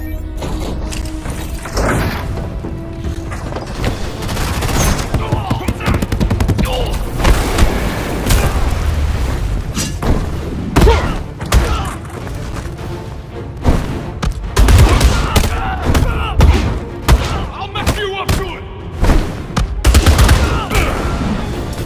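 Gunfire and heavy booms from Batman Arkham Shadow, a VR video game, come as bursts of rapid shots and thuds spread across the clip, loud and close, with impacts and mechanical clanks mixed in.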